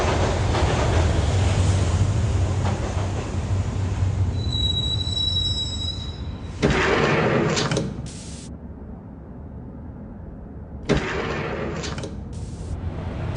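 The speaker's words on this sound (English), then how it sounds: "the train doors had already shut behind me, and I was in for the ride" A subway train ride in the Max Payne video game, bound for Roscoe Street Station: loud, continuous rumbling wheels with metallic squeals, a high whine partway through and a few sharper bursts of rail noise, with no voices.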